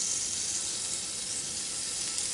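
Venison pieces browning in a cast iron pot give a loud, steady, unbroken sizzle and hiss throughout, with no voices.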